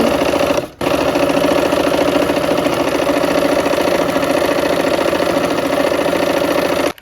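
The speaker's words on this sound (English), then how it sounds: "we're going to go ahead and put our needle down" A sewing machine stitches brown fabric rectangles in a loud, continuous close-up whir of rapid needle strokes, breaking off briefly near the start and stopping at the end.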